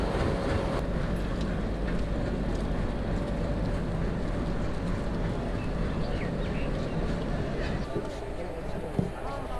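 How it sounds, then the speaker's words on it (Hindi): A train rolls into an Indian railway station platform with a loud, continuous rumble and clatter of wheels, layered with steady crowd and platform noise and voices talking throughout. "इसके पीछे जस्ट पीछे ट्रेन भी आ रही है"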